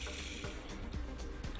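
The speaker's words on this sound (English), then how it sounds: "After cleaning, just rinse with water" Water rinsing a Blanco Silgranit PuraDur sink after cleaning, a steady close gush from the tap splashing into the basin, continuous and fairly loud, with no talking.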